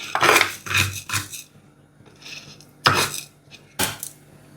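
A cooking pot being set down and handled for prawn curry in a home kitchen, a few close metallic clanks and scrapes spaced irregularly with quiet gaps between them.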